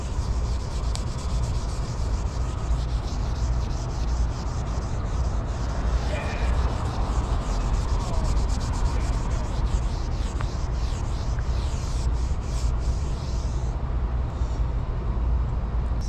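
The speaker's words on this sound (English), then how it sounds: "I get a rag. And I put some polish on here." A rag rubs polish onto the hull of a super yacht in a steady, continuous scrubbing rhythm, close and fairly loud, with a faint voice in the background.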